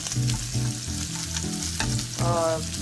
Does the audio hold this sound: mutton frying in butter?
yes